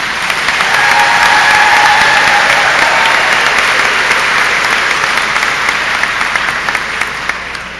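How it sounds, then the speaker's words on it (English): Loud, sustained applause from a graduation audience at a college ceremony, a steady wash of clapping that fades slightly toward the end. "can we give them a large round of applause?"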